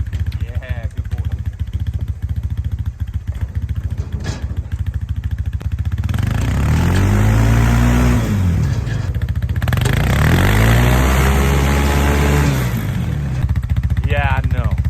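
A homemade weaponized boat sleigh's small engine chugs and revs in two strong surges after a quieter stretch, loud and close, with a brief clatter and outdoor noise around it.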